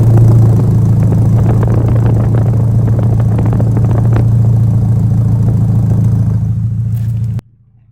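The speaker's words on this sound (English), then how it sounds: "The owner's running pretty well a straight pipe out the rear with no catalytic converter" Rear single-exit straight-pipe exhaust with no catalytic converter on a 1980s Porsche, a loud, steady close-up engine rumble that holds for about seven seconds and then cuts off abruptly, with no talking.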